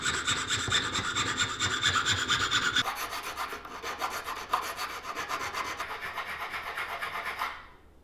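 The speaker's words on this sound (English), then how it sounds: "I needed to bust out the jewelry saw again and file it to fit the habaki perfectly" A metal file rasps steadily against a brass collar for a katana scabbard, shaping its slot to fit the habaki, with dense continuous scraping strokes close up that ease into a lighter, thinner rasp before fading out.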